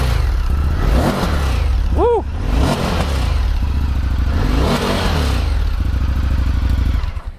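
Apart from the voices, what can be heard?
Indian FTR S motorcycle engine revving, Akrapovic exhaust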